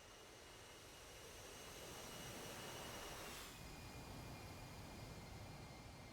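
An aircraft taxis along a runway in the DCS combat flight simulator during a 343rd versus 14th squadron 6v6 match, giving off a faint, steady jet engine drone that swells slightly midway, with no talk.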